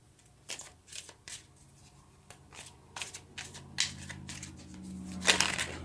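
Tarot cards are shuffled and drawn at close range in a series of brisk riffling bursts with short pauses between them, ending in a louder flurry.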